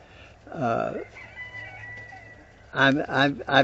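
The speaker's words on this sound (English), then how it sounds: "But Red, I wished you was a good rooster." A rooster on a small backyard acre crows loudly near the microphone, followed by a run of clucking hens, over a low steady hum.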